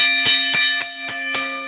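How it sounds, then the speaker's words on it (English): A bell rings out in five evenly spaced, bright strikes, each leaving a sustained ringing tone that carries into the next, loud and close with no voices. "Ringing the bell for you."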